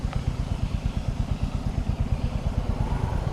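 A Royal Enfield motorcycle idles while stopped on a narrow mountain road, a steady, loud low-pitched thumping engine rhythm that stays constant throughout.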